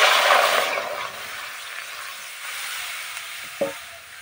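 A loud burst of sizzling hiss as water hits a hot pan, fading quickly into a quieter steady simmer, with a brief clink near the end.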